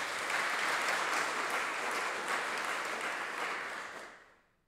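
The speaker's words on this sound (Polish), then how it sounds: "myślę, że w tym momencie możemy oklaskami powitać wszystkich tu obecnych" A large audience applauds at the Jagiellonian University's anniversary ceremony in a hall, with thick, even clapping that holds strongly and then fades away to silence at the end.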